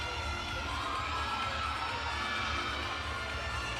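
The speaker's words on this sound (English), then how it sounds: "you've got the entire Maryland team cheering for the Tar Heels" A gymnastics team cheers and shouts at an NCAA regional meet in an arena, a continuous roar of crowd voices and yells at steady volume throughout.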